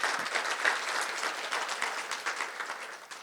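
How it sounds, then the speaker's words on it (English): Audience applauding new Pasco city council members at a Chamber of Commerce Sunshine Luncheon; steady, moderately loud clapping from a room of people that holds throughout and tapers slightly at the end. "So let's give them a round of applause from the City of Pasco"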